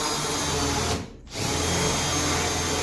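A power drill bores into spot welds on a car quarter panel, a steady close whine with a brief dip in the middle where the bit pauses before grinding on.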